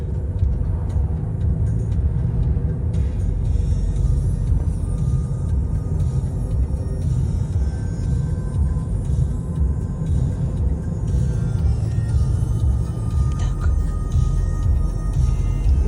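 A car rolls through the town of Yaremche, giving a continuous low road rumble and engine drone from inside the vehicle, steady and moderately loud throughout with no talking.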